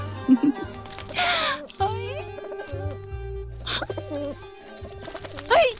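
A pigeon coos in short bursts in a Hindi romantic film scene, mixed with people talking and background music.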